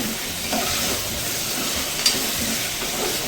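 Two small chopped tomatoes go into a hot frying pan and sizzle in a steady, even hiss, with a brief stirring clink partway through.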